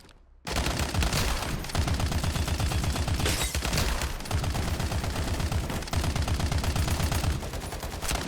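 Sustained automatic machine-gun fire in the video game Farlight 84, loud rapid bursts with brief gaps running nearly the whole time after a short quiet start.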